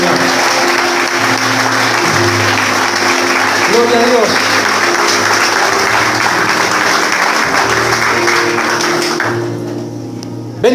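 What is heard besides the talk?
church congregation applauding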